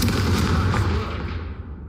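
A Confringo fire spell cast and exploding in the Hogwarts Legacy video game, a loud booming blast with a rumbling tail that fades over about two seconds.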